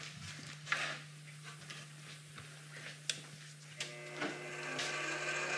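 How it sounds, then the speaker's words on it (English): A wood planer's feed rollers turn on a test run with the knife raised, producing a faint, steady mechanical hum broken by a few light ticks and clicks. "I'm going to do a trial run with only the feed rollers going"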